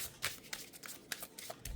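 Tarot cards being shuffled by hand, a quick run of soft papery riffles and flicks in uneven bursts, close and quiet with no talking.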